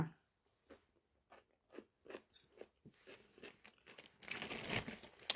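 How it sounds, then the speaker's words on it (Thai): Crisp cucumber is bitten and chewed close up, producing a run of sharp crunches that build into dense, wet crunching toward the end, with no talking. "แตงกวากรอบๆแล้วฮะ"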